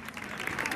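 Brief burst of crowd applause for the Crispiano town administration at a Paralympic sports day event, a dense clapping wash with a voice faintly under it.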